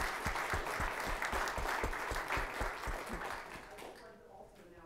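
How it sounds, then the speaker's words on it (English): A church congregation gives applause to the Holiday Bazaar volunteers during Sunday worship, a full burst of many hands clapping with a strong rhythmic clapper prominent, holding steady then fading out over the last second. "could you please stand and we can thank you with applause"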